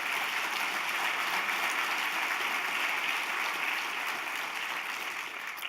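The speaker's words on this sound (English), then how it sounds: "Yeah, you bet you applaud." An audience at an LPGA golf tournament address applauds, a dense, sustained wash of clapping that fills the whole stretch without a break.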